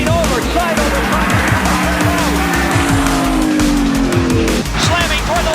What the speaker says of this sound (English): Ricky Rudd slamming for the wall. Crashing, rolling over, side over side